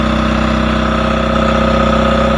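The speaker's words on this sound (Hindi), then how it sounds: "ये रीजनरेशन की वजह से इंजन का स्पीड बढ़ गया है।" A Tata Ace Gold BS6 diesel engine runs at a raised, steady speed during DPF regeneration, a continuous even drone with a fine rhythmic pulse and no talk.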